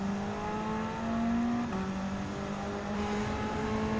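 Race car engine in the Gran Turismo 7 racing game, a steady sustained drone with a shifting pitch that dips partway through, continuous and fairly loud with no talking.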